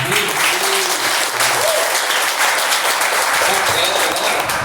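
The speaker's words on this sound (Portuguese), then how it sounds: "Vamos dar uma salva de palmas de verdade" Loud, sustained applause fills the room as a congregation at a Catholic prayer group gathering claps steadily for nearly five seconds, a dense wash of hand claps with no break.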